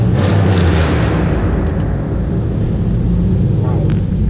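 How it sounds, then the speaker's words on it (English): A Pontiac Grand Prix GXP V8 with 65,000 miles revs at half throttle, giving a loud, deep, close engine roar that holds steady for several seconds. "That's not even full throttle. That's just like a little bit of a half rev there."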